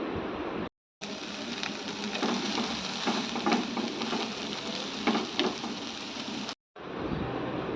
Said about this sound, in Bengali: এখন এটা আমি ভেজে নিব।